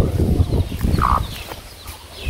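A hen dust-bathing in the dirt of a rural yard after morning rain, giving soft low clucks and scuffling sounds, with a faint voice nearby.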